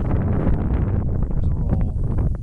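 Gusty wind buffeting an outdoor microphone while an RC helicopter flies, a loud low rumbling roar that stays constant with no clear speech.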